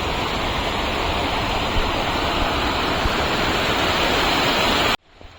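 River water released to flow down past a bridge, a loud steady rushing roar heard close by that cuts off sharply near the end, followed by a brief faint knock.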